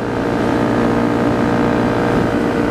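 A Honda CRF250L motorcycle cruising at highway speed near 7,260 rpm, its single-cylinder engine a loud, steady, continuous drone mixed with wind rush, with no voices over it.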